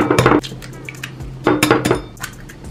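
Eggs are cracked and whisked in a dish, giving bursts of clinking utensil-on-dish scraping and tapping, close and fairly loud, in two main rounds.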